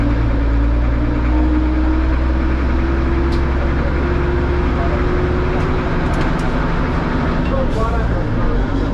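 A 1962 Chausson bus engine runs loud and steady in the Mulhouse streets, a continuous low rumble with a slowly rising tone and faint traffic noise around it.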